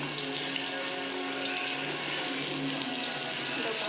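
Hot water runs steadily from a tap into a kitchen sink for washing, a continuous close rushing splash with no pauses throughout.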